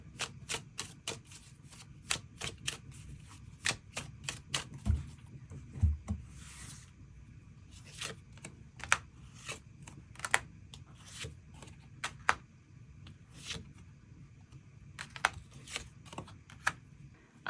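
Tarot cards being shuffled and drawn, a long run of crisp, sharp riffling snaps in quick irregular rhythm, close and fairly quiet, with a brief softer sliding rustle partway through.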